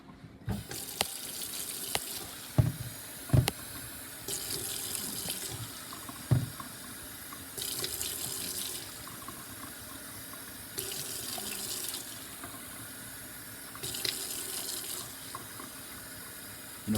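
Running water pours steadily from a tap into a pot in several separate bursts, each lasting a couple of seconds, with short pauses and light clatter between them.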